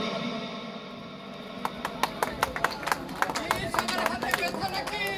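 An audience at a content creators' gathering breaks into scattered, then fuller clapping, with an amplified voice speaking over the applause.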